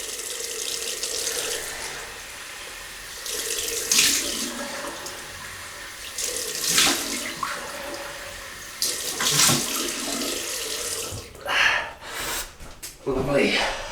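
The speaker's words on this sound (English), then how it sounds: "Then we'll have a cold water rinse then." Water runs from a tap in bursts for a cold rinse after a shave with a double-edge razor, with splashing and gasps of breath, and someone speaks at times over it.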